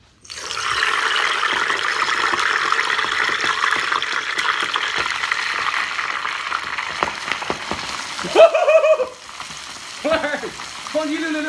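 Sea cucumber deep frying in hot oil gives a loud, dense, continuous sizzle and crackle that holds steady for several seconds, then gives way to brief stirring and bubbling sounds near the end.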